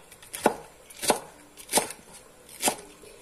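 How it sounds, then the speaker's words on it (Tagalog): A knife slices cabbage thinly on a cutting board for pancit guisado, giving four crisp, evenly spaced chops, close and clear over faint background hiss. "Maghihiwa ng repolyo, maliliit lang po pag sa pansit gisado."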